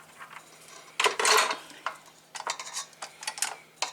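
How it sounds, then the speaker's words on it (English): A utensil scrapes a strawberry and cream cheese mixture around a bowl in quick, irregular strokes, with one heavier scraping burst followed by shorter scrapes and taps, close and fairly loud, with no talking. "I'm going to scrape this up a little bit"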